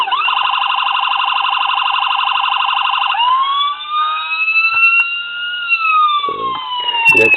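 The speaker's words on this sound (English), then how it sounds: "The siren, same siren that I use in most of mine if I don't use a sound card. Different tones every button press." A police siren on a custom Kentucky State Police Dodge Charger Pursuit blares close and loud, first in a rapid warbling yelp, then in slower wailing sweeps, before brief bursts of other tones.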